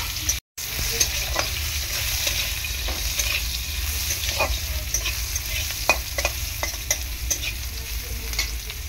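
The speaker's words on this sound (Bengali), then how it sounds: "তারপর দেখো আম দিয়ে দিচ্ছি আমি এখানে, আমটা দিয়ে দিলাম, দিয়ে ভালো করে আমটাকে ভেজে নেব।" Raw mango pieces fry in a pan with dry chilli, giving a steady close sizzle with scattered pops and crackles throughout, a short silent gap near the start and no talking.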